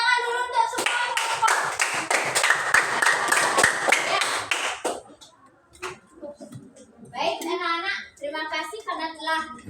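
Schoolchildren in a classroom clap together for a classmate, a fast, even burst of many small hands lasting a few seconds, followed by an adult voice and children talking.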